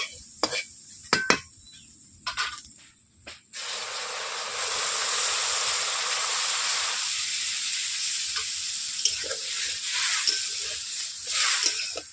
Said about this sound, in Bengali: এরপর আমি কড়াইয়ের মধ্যে জল দিয়ে দিচ্ছি।